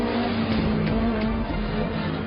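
A Porsche race car prepared by the Almeras brothers runs steadily during a competition, its engine holding a continuous loud drone with a few faint tire chirps on top.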